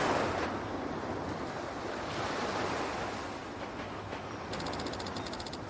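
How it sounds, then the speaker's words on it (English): Loud ocean waves crashing and washing against the shore in the video game Yakuza 4, a steady broad surf roar running throughout with a brief high electronic chirping pattern near the end. "These waves are really loud."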